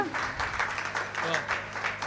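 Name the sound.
audience clapping during a kirtan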